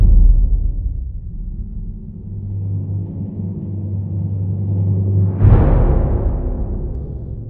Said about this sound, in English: in this piece, for our crescendos, we use timpani rolls